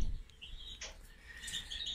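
Zebra finches chirp in an aviary, with a few short, thin calls and a brief rising tweet rising over a steady low background hum, fairly faint and close.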